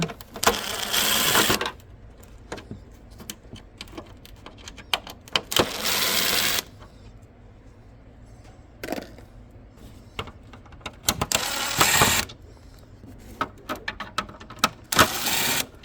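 Screws are removed from a Subaru Forester headlight housing using a powered driver, with several short buzzing bursts separated by quieter clicks and handling noise.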